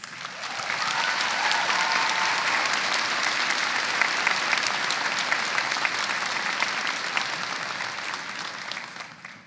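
A large university commencement crowd applauds educators who stand to be recognized, giving a steady, sustained wash of clapping that holds for several seconds and then tapers off at the end.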